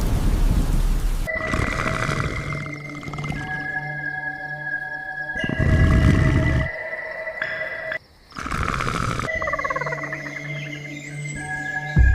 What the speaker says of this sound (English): Every drop of rain striking the jungle carried the warning of predators